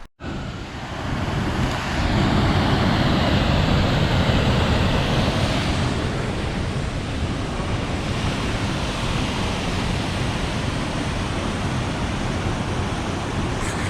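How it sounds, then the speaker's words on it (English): A waterfall in Olympic National Park roars steadily and loudly nearby, a constant broad wash of rushing water with no voices. "That was the actual waterfall."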